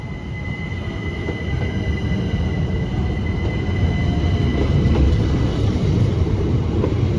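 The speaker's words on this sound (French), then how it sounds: "La rame arrive de Montreux à peine 10 minutes avant de repartir dans l'autre sens." A Montreux-Oberland Bernois passenger train rumbles in steadily, its wheels grinding and faintly squealing on the rails, a continuous loud roar building slightly over several seconds.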